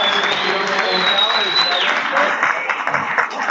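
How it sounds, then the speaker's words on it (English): Applause and cheering from a crowd at a political watch party, a steady dense clatter of clapping that stays loud throughout, with a high whistle cutting over it early on. "So I would like to give a big round of applause to everybody that helped out"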